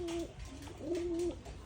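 A white male pigeon coos nearby, two soft, drawn-out tonal calls with a rising and falling swell, faint over low background noise.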